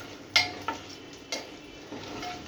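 Red chilli powder sizzles softly in hot tempering oil for a Dhaba-style paneer masala, with a few sharp clinks and scrapes of a spoon stirring against the pan over a faint, steady fry.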